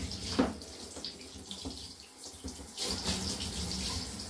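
Water runs from a tap in a steady splashing hiss, dipping briefly before surging louder again, with a few knocks and handling noises.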